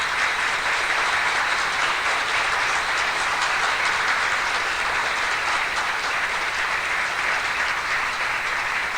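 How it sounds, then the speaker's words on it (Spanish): A live show crowd claps loudly and steadily, a dense, sustained wash of applause with no break. "Aplausos para Pito Zumbador de la mecánica del Horse Racing y piloto."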